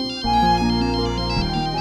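A mobile phone ringtone plays loudly and alone in a Hindi family drama scene, a steady melodic electronic tune with repeating tones that shifts pitch partway through.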